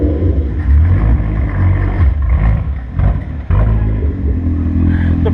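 A car engine idling on its own after a seafoam fuel treatment, in a budget rally build: a steady low rumble with uneven clatter and a couple of brief dips, close and loud throughout.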